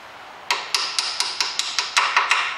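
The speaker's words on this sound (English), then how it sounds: "So just nice gentle taps. Screw it out a little bit more and just tap it again." About ten gentle, evenly spaced hammer taps strike a bolt on a 2010 Ford Fiesta gearbox in a garage. Each sharp metallic tick is close and clear, and there is no speech.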